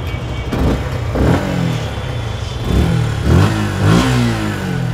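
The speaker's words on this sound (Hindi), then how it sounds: "195 सीसी का बाइक स्टार्ट है" A 2022 Suzuki Gixxer SF 155 BS6 motorcycle engine running close up, with a steady mid-pitched hum broken by several quick rev blips that rise and fall.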